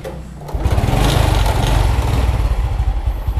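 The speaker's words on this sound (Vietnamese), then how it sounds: "Đây cô chú nghe tiếng máy nha. Đang nổ máy đó." A vintage Honda Cub motorcycle with an original, untouched engine idles nearby after a kick start, a low, even putter of rapid pulses that sounds smooth and steady, with no voices over it.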